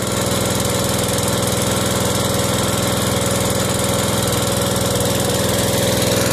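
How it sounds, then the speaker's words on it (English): A slurry pump engine idles or runs just above idle while filling tubes that unroll an aquadam, giving a steady, loud, even engine drone with a constant low thrum that never changes pace. "The pump is only on idle, or just above idle."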